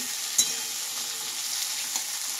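Bottle gourd frying in a pan, a continuous close sizzle with a couple of soft utensil taps, steady and unbroken, no voices.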